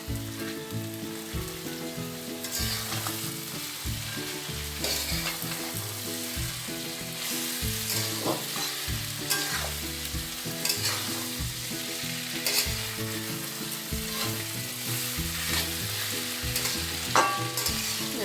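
Pre-fried shrimp sizzle in hot oil while being stirred into banana flower ghonto in a pan; steady crackling frying runs throughout, punctuated by repeated scraping strokes of the spatula, with no talk.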